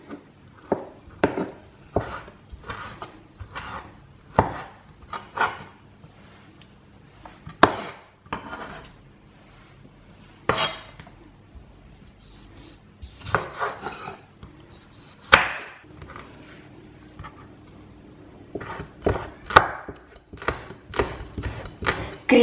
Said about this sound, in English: Chop a few tomato. Again, very fine slices.